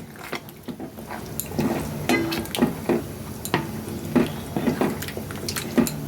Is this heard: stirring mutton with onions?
yes